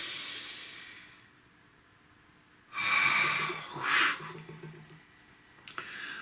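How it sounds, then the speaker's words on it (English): A slow, deep breath drawn in as a long airy inhale, followed by a hissing exhale through the nose or mouth, close to the microphone and quiet, with no talking. "Let's have a nice deep breath, shall we?"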